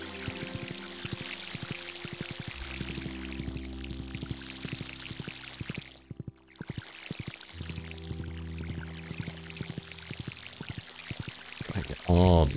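Water pours repeatedly as crops are watered in Stardew Valley, a series of short splashing bursts in a steady rhythm over soft background music.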